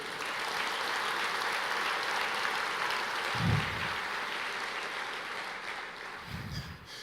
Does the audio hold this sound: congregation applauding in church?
yes